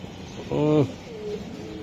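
Racing pigeons at a club coo once in a short, near, tonal burst partway through, against low background murmur.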